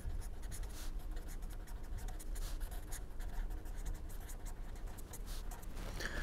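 Steady close scratching of writing on a board, continuous strokes with brief breaks between them and no speech over it.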